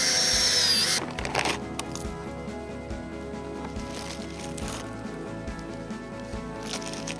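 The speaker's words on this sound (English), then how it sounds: "your auger will sometimes get wrapped up in grass" A power auger drill grinds into a grassy lawn, boring holes for tulip bulbs; the motor whines loudly for the first second, then settles into a steady, slightly fainter churning drone with faint rhythmic scraping, no talking.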